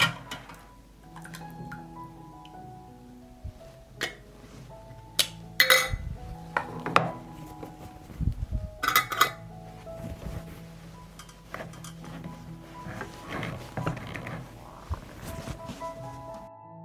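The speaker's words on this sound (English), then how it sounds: "Immediately close the jar with sterilized lids." Glass jars of hot blueberry dressing being closed with sterilized metal lids: scattered clinks, taps and sharp knocks of glass and metal, with a few louder clusters of clatter against a quiet kitchen background.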